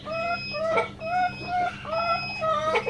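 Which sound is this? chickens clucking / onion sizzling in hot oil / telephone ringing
chickens clucking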